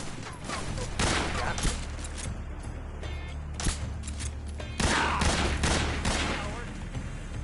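Bursts of rapid gunfire ring out in a Metal Gear Solid 3 firefight, sharp volleys that recur across the stretch at fairly loud, close range.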